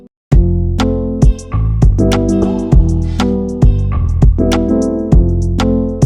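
Processed Afrobeats drum pattern with punchy kick and snare hits over bass and melodic elements, a steady loud loop with syncopated rhythm and no voices.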